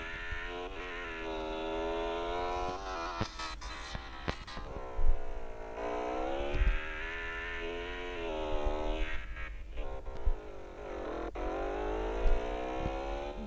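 A car engine hums and revs with rising and falling pitch as a vehicle drives in the Roblox video game, a steady moderate drone with a few brief clicks and bumps.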